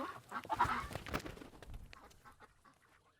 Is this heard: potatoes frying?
no